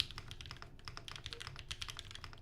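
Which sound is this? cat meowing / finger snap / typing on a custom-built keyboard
typing on a custom-built keyboard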